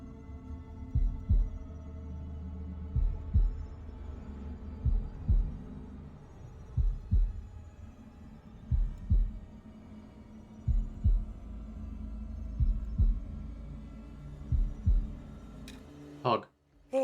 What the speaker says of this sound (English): Oh, it's heartbeat game time.